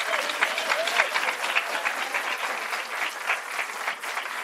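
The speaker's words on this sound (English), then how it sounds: "let's give a round of applause to our river kids" An audience at the Indian River Lagoon Symposium applauds the river kids with continuous, even clapping that fills the room at full loudness for the whole stretch.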